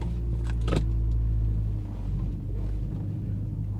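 A BMW Z4 3.0 rolls off a trailer, its engine holding a steady low idle rumble throughout, with a brief faint clink near the start and no talking.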